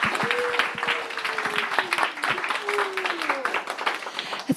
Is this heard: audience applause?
yes